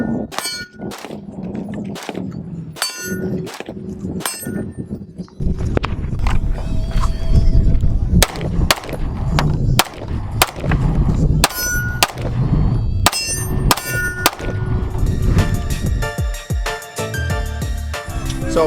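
Rifle shots followed by handgun shots ringing off steel targets, a rapid series of sharp metallic clangs and pings that start sparse, then come densely in quick succession at close range, with no talking.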